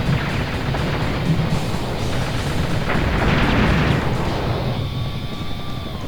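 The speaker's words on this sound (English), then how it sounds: "gonna blow up the enemy helicopters and tanks" Enemy helicopters and tanks blown up in the PlayStation game Agile Warrior F-111X: a loud, continuous wall of rumbling explosions and booming blasts with dense noise throughout.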